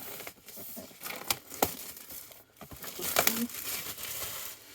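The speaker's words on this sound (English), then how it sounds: "Just got to unbox it here. Thought I'd cut." Cardboard packaging for a PhotoSpring 10 digital photo frame being cut and opened: close, quiet crinkling, scraping and tearing with irregular sharp snaps and rustles.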